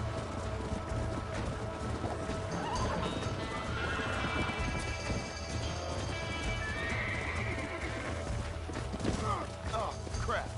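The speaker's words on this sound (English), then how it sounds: "Looks like we got the lot of them. What magnificent animals they are. Hey, the stallion's getting away." Horses in the Red Dead Redemption video game neigh and whinny while hooves clip-clop at a gallop, a dense, loud, continuous herd sound with game music or ambience underneath.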